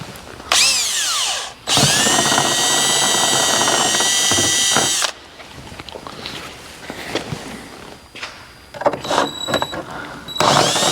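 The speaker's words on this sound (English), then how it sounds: "We're going to drill one in each door." A step drill bit bores into the door panel of a 2024 Ford Maverick, two loud sustained whines of about a second and three seconds, followed by quieter clicks and handling sounds of the tool near the mic.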